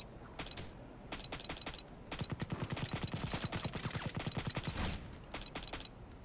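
Gunfire in the first-person shooter Crysis: scattered single shots give way to a rapid automatic burst in the middle, then a few more isolated reports, all fairly quiet and without talk.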